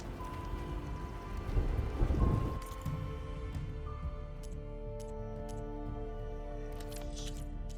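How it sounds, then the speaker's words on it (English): A storm in the Horizon Forbidden West game: steady rain hiss with a low thunder rumble swelling and fading early on, then continuing rainfall under a sustained tonal game ambience, with no voices. "Oh damn, yeah, there's a storm up there."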